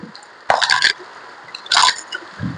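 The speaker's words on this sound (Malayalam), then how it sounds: "നമ്മൾ ഇവിടെ ഇരുന്ന് പാത്രം കഴുകാൻ കേട്ടോ" Water splashes and pours in two short bursts while dishes are washed outdoors in the rain, with quieter dripping and a low muffled thud at the end.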